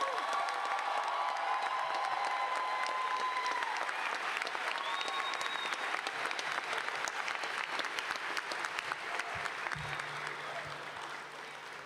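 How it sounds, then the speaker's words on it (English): Sustained, dense applause from a large crowd at a 2024 college graduation ceremony for the graduating class, steady throughout with scattered cheers, gradually tapering slightly toward the end. "Everyone, please join me in applauding the American College of Education's graduating class of 2024."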